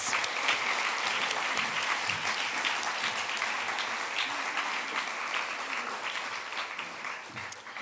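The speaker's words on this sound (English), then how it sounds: "let's have a round of applause for those 8th graders" Sustained audience applause at a middle school closing ceremony, honoring the 8th graders; dense, steady clapping from a large crowd that holds for about eight seconds and tapers slightly toward the end.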